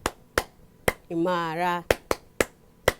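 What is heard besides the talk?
rhythmic clapping routine from Tanzania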